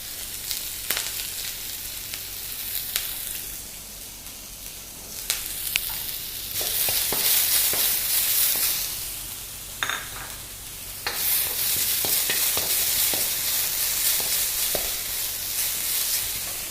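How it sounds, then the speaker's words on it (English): Curry leaves and onions sauteing in hot oil with mustard seeds and dal, a steady loud sizzle that swells as the ingredients hit the pan, with occasional spoon scrapes and stirring clicks. "Let's add the curry leaves and the onions."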